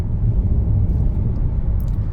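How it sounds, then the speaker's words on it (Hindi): A Hyundai Creta travels at about 88 km/h over a rough, broken road, giving a loud, steady low rumble of tyres and engine from inside the cabin with no speech. "जैसा आप देखो भाई 88 की स्पीड में मगर गाड़ी के अंदर कोई झटका नहीं आ रहा और रास्ता ख़राब है पूरा"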